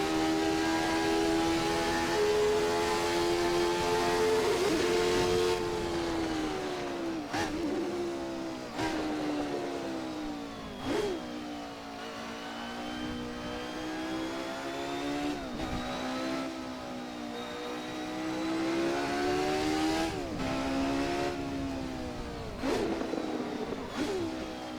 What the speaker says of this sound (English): And the Ford V8 comes to life.